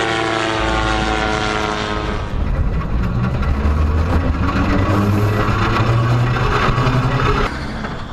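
A loud engine drone with a whirring, propeller-like buzz runs throughout as a car tows an old hatchback with a helicopter propeller mounted on top, shifting pitch partway through as the vehicles move and speed up.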